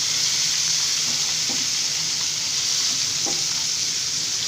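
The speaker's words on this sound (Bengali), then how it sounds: "আমি সবগুলো মাছই একবারে দিয়ে দিচ্ছি।" Small parshe fish, added all at once for a masala curry, fry in a pan with a steady, close sizzle and a few soft stirring taps.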